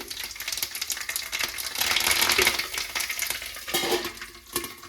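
Mustard seeds, cumin and curry leaves crackle and sizzle in hot oil in a pan, a dense steady frying hiss with sharp popping bursts, close and fairly loud, with no one talking.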